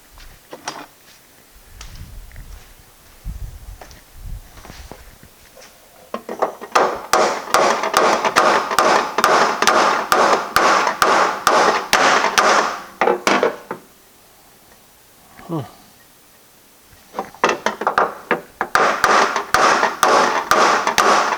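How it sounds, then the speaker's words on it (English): Metal hammering on a bent bracket inside a 1955 car, bursts of rapid sharp ringing blows lasting several seconds, separated by pauses, loud and close with no talking. "what is he hammering inside my car?"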